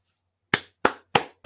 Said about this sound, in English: I gotta applaud that one